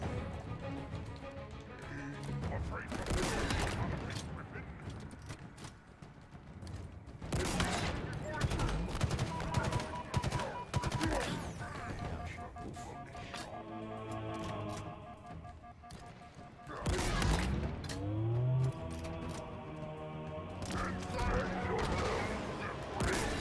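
Gunfire erupts in Halo Infinite during a Legendary campaign fight, with rapid repeated bursts and shots in clusters alongside game effects and intermittent talking.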